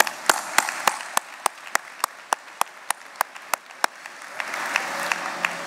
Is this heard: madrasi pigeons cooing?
no